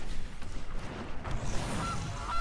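A goose card in the digital card game MTG Arena gives a few short, nasal honks close up, standing alone over quiet game background sound.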